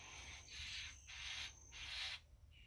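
Birds call nearby in three repeated raspy, hissing bursts at an even rhythm, faint against quiet background noise, with no talking.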